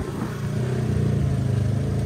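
A Pontiac car engine revs hard for a burnout, a steady throbbing low rumble that holds loud and close throughout a brief stretch with no talking.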